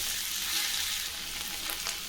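Chopped taro root sizzles in hot oil in a pan, a bright, steady frying hiss with a few soft scraping stir sounds near the end, close and alone.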